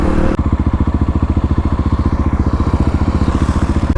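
A Kawasaki KLX351 motorcycle engine idles steadily nearby after its misfire was fixed, a rapid even thumping pulse with a brief louder burst at the very start and no talk.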